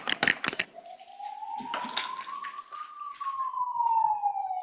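An ambulance siren wails from an unmuted participant's background during an online group session, a steady tone slowly rising then falling, heard after a few brief bursts of talk at the start.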